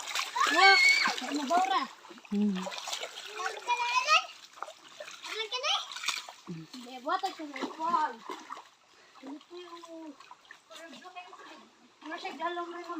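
Splashing in cold river water, short watery bursts mixed under steady chatter from children and other voices.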